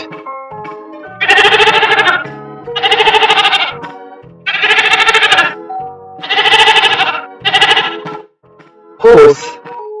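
A domestic farm goat bleats close and loud, five long, wavering calls in a steady series, followed by a brief voice at the end.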